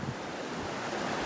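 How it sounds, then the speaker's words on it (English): A small mountain creek runs through a narrow canyon in Wyoming's Wind River Range, giving a steady, close, broadband rush of flowing water with no voices. "this is the first running water really we've seen"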